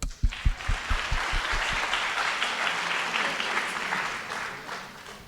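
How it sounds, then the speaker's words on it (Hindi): Audience applause at a Hindi kavi sammelan poetry recital, opening with a few loud close claps before a broad, even wash of crowd clapping carries on. "तालियां बजाइए"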